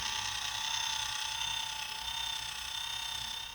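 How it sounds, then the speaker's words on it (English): A steady, whining mechanical drone from a motor gearbox in a mechanical sea anemone sculpture, with a high gear whine at higher speed, running continuously and evenly throughout at moderate loudness, no voices. "At higher speeds the motor gearbox gets noisy"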